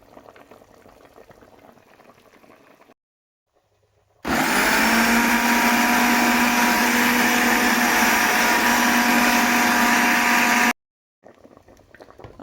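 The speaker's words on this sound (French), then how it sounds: "je viens les retirer pour les écraser ou les mixer" A blender whirs at full power, loud and steady for about six seconds, pureeing cooked tomatoes, onion and chili pepper for a fisherman's soup sauce, with quiet kitchen sounds before and after.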